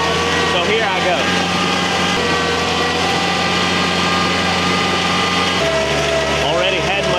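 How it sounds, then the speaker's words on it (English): A TYM tractor engine drives uphill with a steady, loud drone throughout, its pitch shifting slightly partway through as the load changes. "I cannot put this video out without doing a test run and driving the tractor up the hill"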